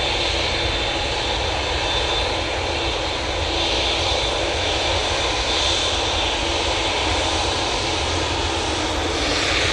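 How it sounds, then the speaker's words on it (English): A Qatar Airways Boeing 787-9 Dreamliner taking off from Manchester Airport, its engines giving a loud, continuous, dense roar that stays steady throughout, with no voices. "It's QR22 and using the beautiful 787-9 Dreamliner"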